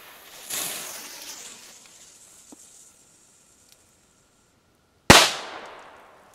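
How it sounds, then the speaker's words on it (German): A Beko A-Böller firecracker goes off outdoors: a short hissing fizz as the fuse burns, a quiet pause, then one loud, sharp bang with a short echoing tail. "Und ein A-Böller noch von Beko."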